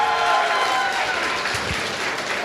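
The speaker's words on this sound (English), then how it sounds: "Let's give a round of applause for Dashner." Audience applause for a presenter coming on stage at a live event, a steady, fairly loud wash of clapping that holds for the whole stretch without spoken words.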